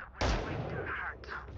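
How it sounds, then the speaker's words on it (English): A single loud burst of gunfire in the tactical shooter Valorant, hitting hard and then fading into a rough sustained wash before a softer second surge near the end. "They're shooting at me"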